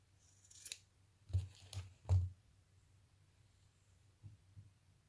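Scissors cutting crochet yarn while making a Christmas gnome: a few quiet, close snips spaced over a few seconds against a low steady hum.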